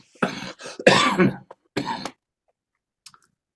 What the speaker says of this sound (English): Sorry, my cough.